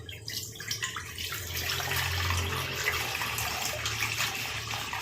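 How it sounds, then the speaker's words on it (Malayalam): Half a litre of milk poured into a pan for fruit custard, a steady close liquid pour with a continuous splashing gush over five seconds. "ഇതിലേക്ക് നമ്മൾ 1/2 ലിറ്റർ പാൽ ഒഴിച്ച് കൊടുക്കുകയാണ്."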